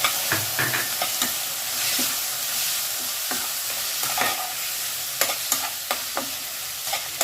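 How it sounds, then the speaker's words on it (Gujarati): Tomatoes fry and sizzle in a pan for palak paneer gravy, a steady hiss broken by repeated scraping stirs of a spoon, close and alone. "ટમેટા પાકી જાય ત્યાં સુધી એને આપણે હલાવતા રહીએ."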